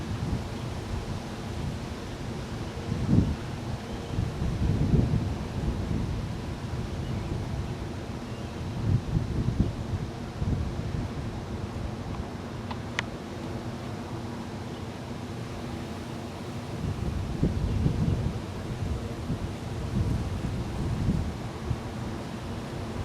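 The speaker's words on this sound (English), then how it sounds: "Wind is a little bit troublesome" Wind buffeting an outdoor microphone at a Cornell red-tailed hawk nest, a steady low rumble with gusty swells throughout, with no other sounds.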